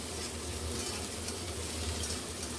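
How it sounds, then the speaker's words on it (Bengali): Dense, even sizzling of potatoes and onions frying in a pan over medium heat, close and constant throughout. "আলু এবং পেঁয়াজটাকে আমি এবার ভেজে নেব"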